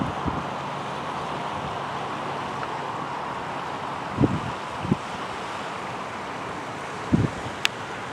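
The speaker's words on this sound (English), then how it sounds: "Just sit here and listen to the water forever." Steady wash of ocean surf on the shore at Canon Beach, Oregon, mixed with continuous wind buffeting the microphone, plus a few faint knocks and thumps and no talking.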